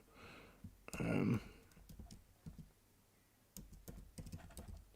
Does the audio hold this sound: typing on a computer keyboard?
yes